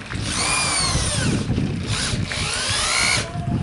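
A power drill drives screws into a board on a 2x8 frame for a large door, with two close, loud whirring bursts with rising and falling pitch and a brief pause between them.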